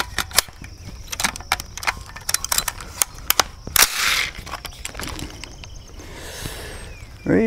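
Rifle shots from a .223 loaded with Federal 62 grain ammunition fired offhand at steel targets, heard as a rapid series of sharp cracks with a louder blast near the middle, outdoors and without talk.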